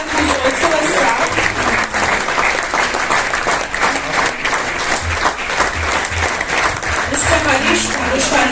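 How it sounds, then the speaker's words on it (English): Sustained, loud applause from an audience honouring platelet donors at a hospital-related event, dense steady clapping filling the whole stretch without pause. "So it's a huge round of applause for them."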